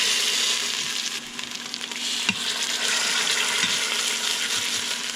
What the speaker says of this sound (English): it got really loud because of the sauteing and popping